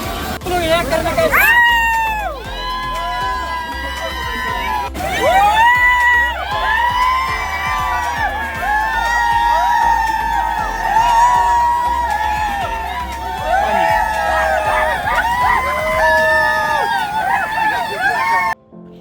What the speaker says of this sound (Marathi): धबधब्यात असेपर्यंत पोरांचा हा जल्लोष चालूच होता